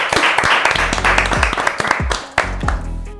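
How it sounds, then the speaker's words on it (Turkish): An audience in a studio setting applauds, a dense burst of hand claps with some louder close claps and thumps, fading slightly near the end. "Onlara kocaman bir alkış alalım."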